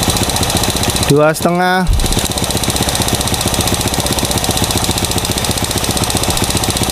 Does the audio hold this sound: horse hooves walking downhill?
no